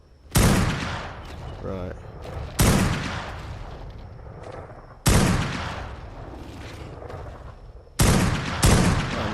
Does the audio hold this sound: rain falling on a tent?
no